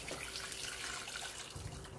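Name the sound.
chicken broth being strained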